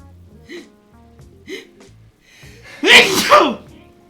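After a few soft breaths and small vocal sounds, one loud, close sneeze bursts out near the end.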